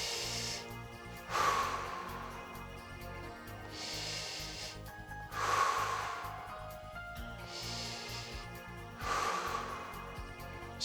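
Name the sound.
deep breathing in and out during a workout exercise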